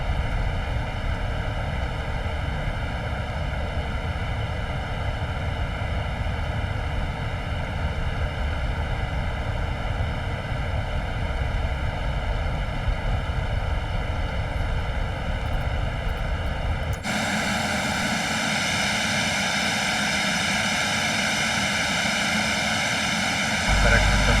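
Embraer Phenom jet engines in a flight simulator give a continuous, loud whining drone with steady tonal bands, abruptly shifting to a brighter, higher whine late on, with radio-style voices faintly present.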